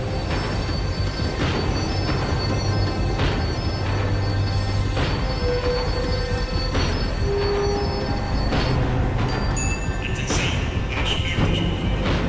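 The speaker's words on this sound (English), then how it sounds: "The tram was slowing down." A tram in the video game Max Payne 3 slows down with a steady rumble, faint wheel squeals and rail clatter, continuous and fairly close, with no voices.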